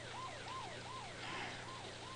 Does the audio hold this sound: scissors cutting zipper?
no